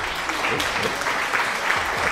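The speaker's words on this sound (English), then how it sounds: "Applause for Foxy Blue." Applause during a livestream, a steady wash of clapping that sounds like a canned or sampled applause effect, running continuously for a couple of seconds at moderate loudness with no voices over it.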